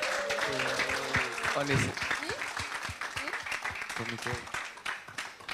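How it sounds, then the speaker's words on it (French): An online seminar audience applauds at the close of a live session, the clapping running steadily throughout while a voice talks over the first two seconds and more brief speech surfaces later. "Vous pouvez vous applaudir."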